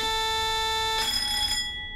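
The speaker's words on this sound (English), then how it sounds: "then at that point the AWS alarm will go off" AWS warning alarm in a Class 50 diesel locomotive cab in Train Simulator 2015, a steady electronic tone that cuts to a brief ring-out and fades, loud and alone.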